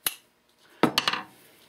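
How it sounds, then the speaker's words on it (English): A soft hammer knocks the barrel wedge out of a new 1851 Colt Navy revolver: one sharp tap, then a quick cluster of three or four metallic knocks, close and crisp. "I'll knock that out and be able to get the barrel off. Use a nice soft hammer for that."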